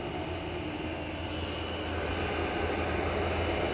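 A Chinese diesel heater runs with a continuous, steady roaring hum and low rumble, unchanging and fairly loud throughout.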